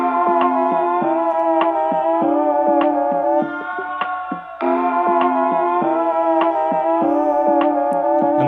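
A reverb-washed guitar sample loops in a steady rhythm of plucked, ringing notes, continuous and fairly loud with no voices.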